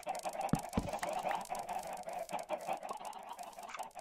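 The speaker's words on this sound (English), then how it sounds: "They've got a lot of chickens too." A flock of chickens in the Minecraft video game cluck and squawk in a busy, overlapping chorus that runs continuously at moderate volume, with a couple of sharper low thumps near the start.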